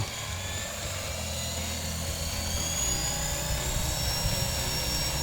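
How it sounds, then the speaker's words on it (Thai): An RC Bell 206 model helicopter's rotor whirs up to speed in a steady, high-pitched whine with a constant droning hum, close and continuous throughout. "หลังจากนั้นใบพัดจะหมุน ฟังเสียงใบพัด ให้หมุนจนสุดเสียงก่อนนะครับ"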